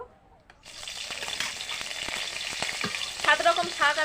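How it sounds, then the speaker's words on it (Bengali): Leafy greens dropped into a little hot oil, a sudden loud sizzle that starts after a short quiet moment and then crackles on steadily, with brief stirring scrapes. "এবার শাক ভেজে নেব, একটু তেল দিয়ে দেবো।"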